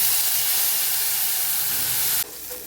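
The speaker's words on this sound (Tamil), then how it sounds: "அந்த சட்னியை ஊற்றிக்குங்க." Chutney hits hot sesame oil tempered with asafoetida and curry leaves, giving a loud, close, continuous sizzling hiss that suddenly drops to a quieter bubbling near the end.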